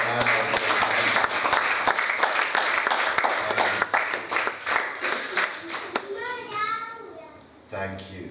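A church congregation claps hands together at a sermon, a lively burst of many hands that thins out, followed by a voice and other voices speaking.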